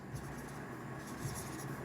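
Chalk or marker scratching across a classroom board during a Hindi-language grammar lesson, a soft continuous rasp with faint strokes and no speech.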